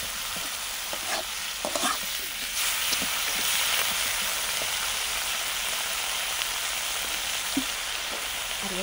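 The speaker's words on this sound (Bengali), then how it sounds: "ভালো করে 5 মিনিট এটাকে ভেজে নিতে হবে।" Bottle gourd greens with shrimp paste fry in hot oil in a steady, close, dense sizzle, with a few scraping stirs near the start and no talking.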